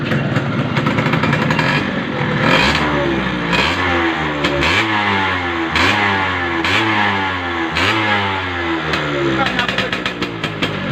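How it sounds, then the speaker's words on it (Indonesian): A nearby Yamaha F1ZR two-stroke motorcycle engine with a drilled-out exhaust revs repeatedly in rising and falling pulls, with crackling exhaust pops as the throttle drops, over a loud steady rumble. "dia bunyi pas turun gas yang akhir dia tetap ada meletusnya ya"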